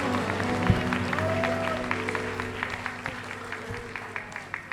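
A congregation claps in a church, a soft, fairly quiet run of scattered hand claps that thins out toward the end, with a low hum underneath.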